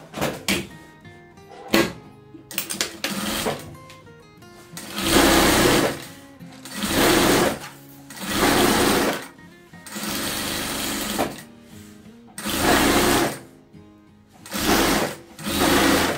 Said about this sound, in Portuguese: Vou abrir aqui e vou costurar bem na vinca, tá?